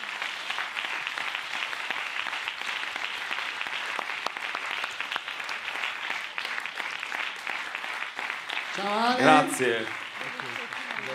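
A festival crowd at a closing ceremony gives steady, dense applause that carries on throughout, with someone briefly speaking near the end over the clapping.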